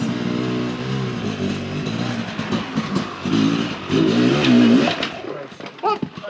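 A heavy enduro motorcycle revs hard and unevenly while climbing a waterfall on a trail. The engine surges and drops close by as people talk over it.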